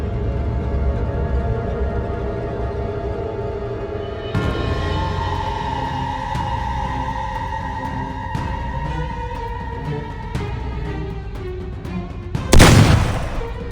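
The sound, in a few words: gunshot sound effect in animated horror story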